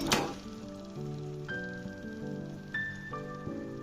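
Chicken hits a hot pan of spiced masala paste with potatoes and carrots, giving a sharp initial sizzle followed by a softer steady frying hiss, with a few light metallic clinks from the pan.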